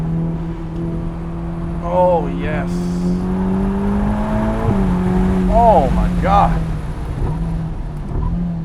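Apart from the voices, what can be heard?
Ferrari sports car accelerating and revving while driving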